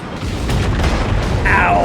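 Naval gunfire from a Cleveland cruiser in World of Warships rolls in as loud, low booming rumble, then a high whistling tone rises near the end.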